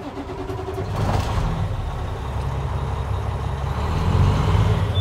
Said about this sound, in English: Now I'm gonna start my truck again to charge my tanks